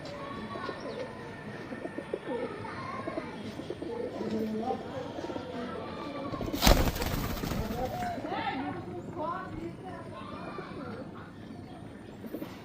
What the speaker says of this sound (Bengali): এই যে আর একটা কবুতর একটু ঠান্ডা লাগছে, ও আসছে খেতে।